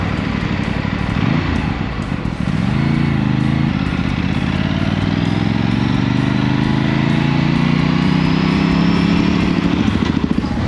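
A Bajaj NS400 or Aprilia RS 457 motorcycle pulls along in second gear at low speed, its engine droning loud and close, with the pitch rising smoothly as the throttle opens.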